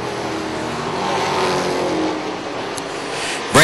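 Race trucks roar past on the oval at Charlotte, engine noise swelling and fading as they pass, a broad loud rush with a brief high whine near the end.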